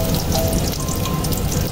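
Onions frying in hot oil in a pan, a loud continuous sizzle and hiss with dense crackle, close up and steady throughout, no voices.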